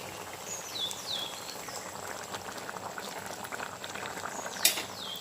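Chicken curry broth made with country chicken and a Konkan-style ground spice paste boils steadily in a pot, a continuous bubbling simmer with small pops and occasional sharper bursts, heard alone without talk.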